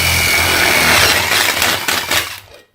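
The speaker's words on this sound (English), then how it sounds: "all you do is you drill a hole in the bottom" A power drill bores a hole through the bottom of a metal can for an improvised emergency stove, giving a loud, continuous grinding whir with rattling metal that winds down and stops abruptly.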